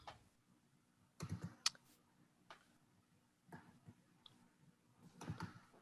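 Typing on a computer keyboard during a webinar demonstration, with short clustered bursts of key clicks separated by quiet pauses, close and moderately faint.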